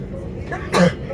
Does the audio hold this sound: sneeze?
yes